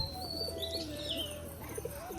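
Domestic pigeons at a home loft coo softly in the background, faint low calls with a few chirps over steady ambient noise, no talking.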